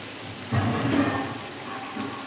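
Shredded cabbage hits a hot pan of simmering vegetables with a soft sizzle that swells briefly, then settles into a steady frying crackle, with a small second flare near the end.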